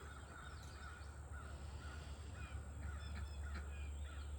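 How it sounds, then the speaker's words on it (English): Crows cawing outdoors among trees in wind, several scattered calls at moderate distance over steady faint background noise. "So many birds."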